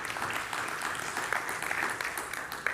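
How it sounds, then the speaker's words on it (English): A room of people clapping together, a steady patter of applause that carries on evenly throughout. "give her a clap."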